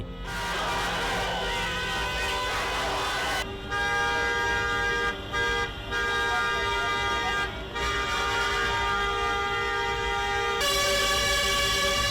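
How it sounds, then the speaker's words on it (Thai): Car horns blare at a Myanmar street protest against the military coup: long, loud, overlapping blasts that swell, break briefly and resume without pause. "ส่วนคนขับรถพากันบีบแตรเสียงลั่นถนน"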